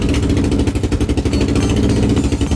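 A single 4-cylinder engine in a scrapheap-built record-attempt vehicle runs loud and close, a rough rapid pulsing chug with steady rhythmic beats throughout.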